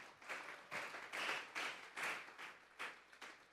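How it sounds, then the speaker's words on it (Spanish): A church congregation at a Sunday afternoon service breaks into applause, coming across as several uneven swells of clapping over a few seconds, moderately faint, with no voices over it. "Vamos a darle un fuerte aplauso pues al Señor esta tarde."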